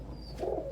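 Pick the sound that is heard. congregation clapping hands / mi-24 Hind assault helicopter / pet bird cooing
pet bird cooing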